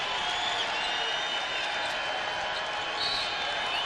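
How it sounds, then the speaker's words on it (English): A basketball arena crowd at a UNLV versus Boise State college game applauds a record-setting three-pointer with a sustained, dense roar of clapping and cheering throughout. "He got a great round of applause."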